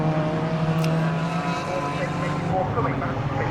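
Rear-wheel drive BMW M3 Cup race cars with 3.2 litre engines at Croft, a steady loud engine drone filling the clip under race commentary.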